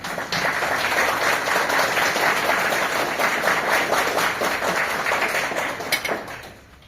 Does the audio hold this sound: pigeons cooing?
no